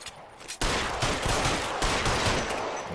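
Sustained gunfire in the crime video game L.A. Noire, a loud dense barrage of rapid overlapping shots that erupts after a quieter lead-in and continues without pause.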